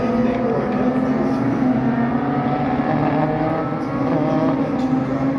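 Vintage race cars roar on the Indianapolis Motor Speedway road course, a loud, sustained engine drone with steady tone that swells slightly as cars pass, close by and without talk.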